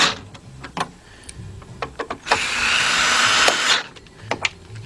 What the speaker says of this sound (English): Get our T30, hook it onto our gun, tighten up the two top ones.